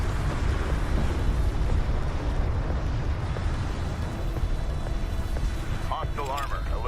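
Dense rumbling blasts of missile explosions fill a battle in the desert warfare game Homeworld: Deserts of Kharak, sustained and loud throughout, with radio-style voice chatter layered over the barrage.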